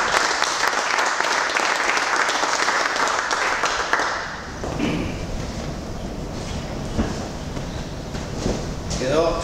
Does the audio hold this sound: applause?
yes